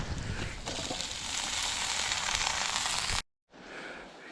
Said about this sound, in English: kielbasa going in. Got our diced potatoes going in.